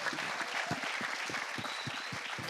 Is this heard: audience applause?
yes